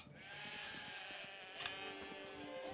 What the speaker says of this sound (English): Look at all this sheep, Russell!